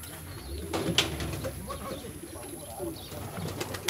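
Pigeons at a bird club in Veria, Greece, on a hot summer day, cooing softly in a low murmur with a brief flutter of wings, while someone speaks nearby.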